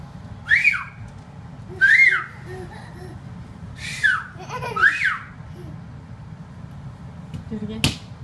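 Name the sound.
child whistling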